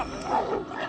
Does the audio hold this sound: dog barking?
yes